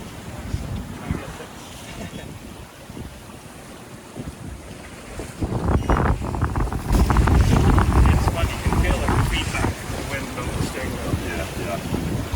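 A sailboat under way off Vancouver Island, bound for Port Hardy, with steady wind buffeting the microphone and water rushing and slapping against the hull, growing louder and rougher partway through.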